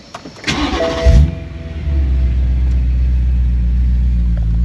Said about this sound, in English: I do like to have the engine running.